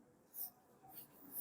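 A marker or chalk writes a fraction on a classroom board, three short scratchy strokes close by and faint against quiet room noise.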